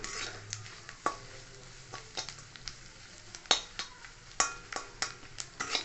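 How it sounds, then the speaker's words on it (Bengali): Coconut pieces frying and being stirred in a pan for Bengali narkel chira, with soft sizzling under sharp scrapes and clinks of a utensil against the pan recurring irregularly, close and fairly quiet. "নারকেলটা যতটা লাল লাল করে এরকম ভেজে নেবো"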